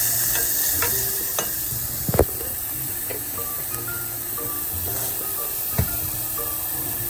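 Fresh garlic fries in a pan for a quick homemade marinara, giving a steady close sizzle broken by a few sharp knocks of a utensil against the pan, with no talking.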